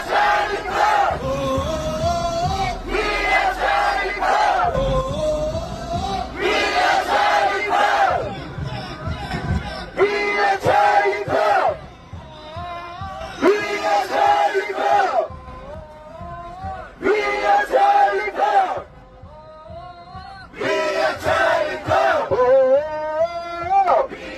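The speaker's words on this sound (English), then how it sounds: "In Korea, a chant of "We are Charlie Kirk" rang out." A large crowd in Korea chants a rhythmic slogan in unison, repeated in loud phrased bursts with short gaps between them, full and close throughout.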